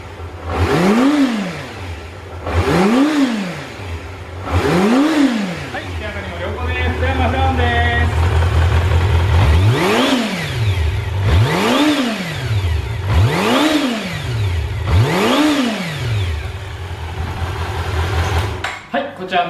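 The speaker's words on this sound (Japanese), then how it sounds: "ではエンジンの方ですね、始動していきます。" A Kawasaki Zephyr χ motorcycle engine starts and idles with a steady rumble and is revved repeatedly, each throttle blip rising and falling in pitch, close and loud.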